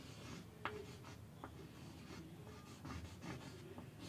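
Chalk or marker scratching and tapping on a classroom board while a calculation is written out, with short strokes and light taps standing out over a steady low room hum, no voices.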